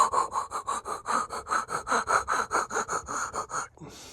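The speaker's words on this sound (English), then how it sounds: "I'm going to go in there with a micro file and I'm going to file." Steady rhythmic rasping strokes, about five per second, of a micro file worked back and forth on metal, close up and fairly quiet.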